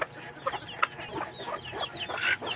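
A hen clucks close by in a series of short, soft, irregular clucks and murmurs, with no other sound over them.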